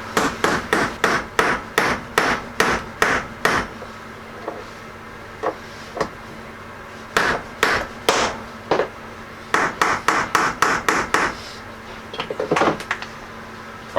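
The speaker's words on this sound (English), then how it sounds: "I got a little nut that's bigger than the bolt, and I'm going to see if I can tap this down" Hammer tapping a nut down over a bolt on the sagging door latch of a square-body Chevrolet C10 Stepside truck: sharp metallic blows in quick rhythmic bursts, close and loud, with short pauses between the runs.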